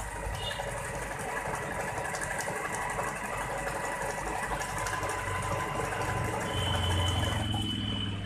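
An Usha Janome Allure automatic sewing machine stitches a zigzag-like C pattern, a steady mechanical whirring and rapid needle ticking at moderate volume, rising slightly in pitch and level toward the end, with no talk.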